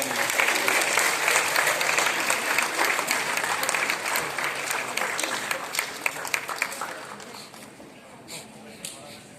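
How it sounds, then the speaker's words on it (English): Audience at an event with a chief guest giving a big round of applause, dense and steady at first, then thinning into scattered claps toward the end. "please, a big round of applause"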